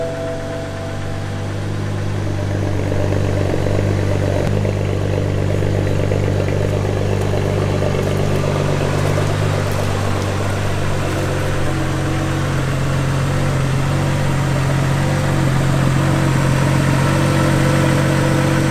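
BMW E90 335i engine after a stage 2+ tune flash, a steady, close idle with a low continuous rumble and mechanical whir that holds even throughout, no talk.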